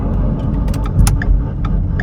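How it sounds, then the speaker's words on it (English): A Ford Fiesta being driven makes an odd noise: scattered sharp clicks and light rattles tick irregularly over a low, steady road rumble from inside the car. "now when I drive the car, it sounds super weird"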